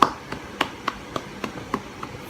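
A single person clapping slowly for a round of applause, about nine sharp, evenly spaced claps at a moderate level, with quiet gaps between them.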